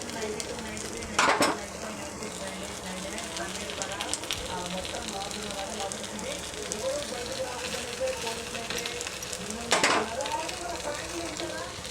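Gunta ponganalu made with poha sizzle steadily as they cook in a pan. Two sharp scraping clatters from a utensil stand out over the constant frying hiss, along with a few lighter clinks.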